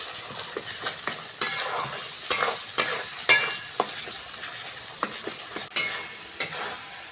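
Spices for a Bengali village-style egg curry being fried down in a pan, a low, steady sizzle broken by repeated sharp spatula scrapes and clinks against the pan, close by with no voices.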